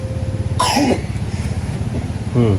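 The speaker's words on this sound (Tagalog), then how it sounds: "Bakit pati itong mga anak mo inuubo na rin?" A couple of short, rough coughs, one near the start and another near the end, over steady background noise with faint voices.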